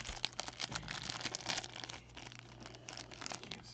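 Vintage wax-wrapped trading card packs being torn open, giving continuous close, crinkly tearing and crumpling of wax paper that is fairly quiet and steady, with no talking.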